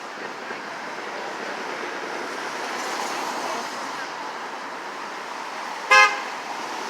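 Steady roar of cars passing on a busy city street, with one short, loud horn toot near the end rising above the continuous traffic wash.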